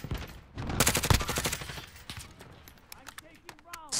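Gunfire in the video game Call of Duty Warzone, played in Zombie Royale mode: a dense burst of rapid shots, loud and close, followed by scattered fainter shots, with players talking over it.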